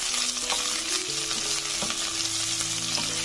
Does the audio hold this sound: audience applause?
no